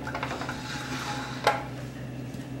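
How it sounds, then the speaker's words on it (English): An attachment and mixing bowl come off a stand mixer during cake making, with faint handling noises and one sharp metallic clunk partway through. "I'll take my attachment off, take my bowl off my mixer"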